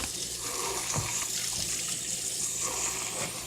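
A tap runs steadily as a dog's water bowl is filled, a close, even rush of splashing water with no voices.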